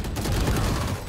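Dense, continuous gunfire in the video game Valorant, a loud burst of overlapping shots filling the whole brief moment with no speech.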